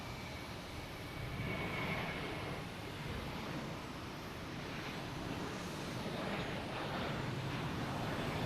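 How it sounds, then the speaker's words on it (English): American Airlines Airbus A321 departing Boston Logan for Charlotte: a fairly distant, steady engine roar that swells slightly and stays broad and even, with a faint airy wash and no voices. "I have American Airlines on A321 heading to Charlotte."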